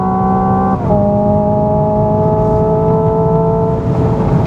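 A 2024 Hyundai Ioniq 5 N electric car laps Sydney Motorsport Park, its loud synthetic engine-like drone holding steady tones with a quick drop and recovery, as if shifting, then sustaining at high speed.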